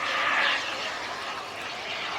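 A radio-controlled jet airplane banks and turns around at a hot air balloon festival demonstration, giving a continuous broadband rushing roar that swells briefly then holds steady at moderate distance, with no talk.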